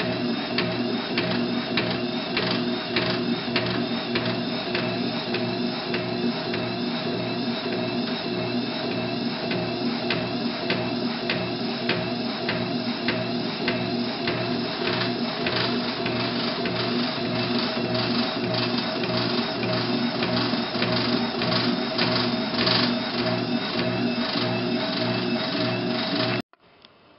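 A needle felting machine runs continuously for almost the whole stretch, a steady rapid mechanical chatter and hum, loud and close, that cuts off abruptly near the end with no talking.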